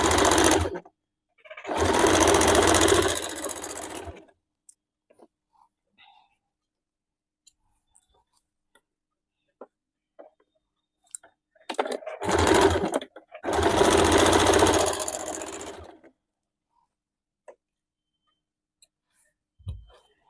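A sewing machine stitching a blouse in two loud, close bursts of rapid whirring, separated by quiet stretches with small clicks and handling noises.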